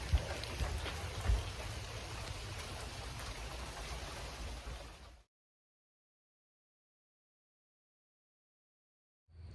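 Rain falls steadily across a garden on an autumn day, a dense wash of patter with a few heavier drops, then cuts to silence for several seconds before resuming briefly.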